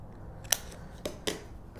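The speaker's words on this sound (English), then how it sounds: "We just want to clip those corners." A corner punch clips the corners of a paper card, giving three or four quick crisp snips and clicks, close and quiet, with no talking.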